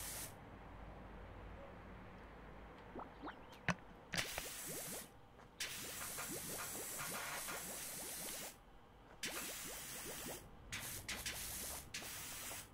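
Pressure washer spraying a car tyre in PowerWash Simulator, a hissing burst of water spray that cuts in and out in several bursts with brief silent gaps, steady and close while each burst lasts.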